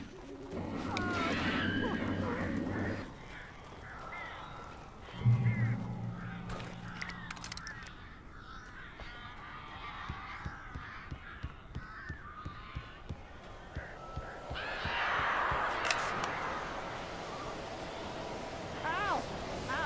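Crows caw harshly in the Alan Wake video game, their calls set against a dense, noisy wash of ambient game sound in a dark, uneasy scene, fairly quiet overall.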